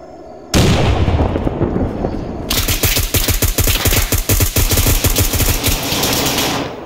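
A frag grenade blast in Arma 3 combat opens with a loud boom, and then heavy, rapid automatic gunfire rattles close and continuously for several seconds.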